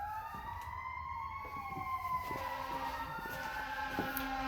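An emergency vehicle siren wails outside, its tone rising and falling steadily over a low traffic rumble. It sounds moderately distant and continuous, with no talking.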